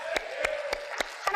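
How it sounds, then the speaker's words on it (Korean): A church congregation clapping in praise, five sharp evenly spaced claps in a steady beat over sustained musical tones. "우리 하나님께 영광의 박수 한번 올려드립시다"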